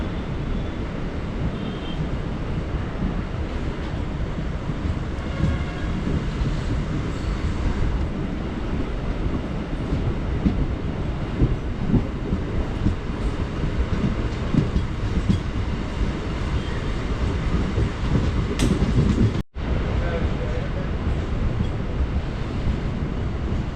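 A MEMU express special train on the Dindigul–Palani–Coimbatore line rolls along the rails after a brief station stop, a loud continuous rumbling roar mixed with rushing wind noise, unbroken apart from one momentary dropout.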